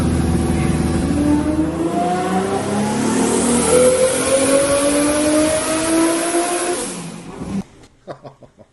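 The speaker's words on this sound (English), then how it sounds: "That instantly recognizable V12 sound." A tuned 700-horsepower V12 from a limousine, fitted in a Toyota Supra MKIV, revs hard and climbs through rising pitch sweeps, loud and close, then cuts off abruptly into quiet clicks.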